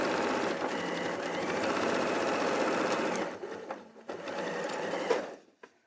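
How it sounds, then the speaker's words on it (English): A sewing machine stitches a hole closed on a fabric summer bag filled with pellets, running steadily and close for about three seconds, then stopping and starting in shorter bursts before falling quiet. "I'm just trying to stop them escaping while I sew the hole closed"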